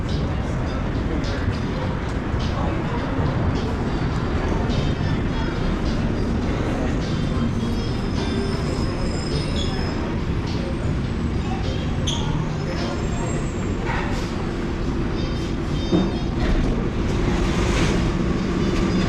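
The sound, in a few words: airport people mover train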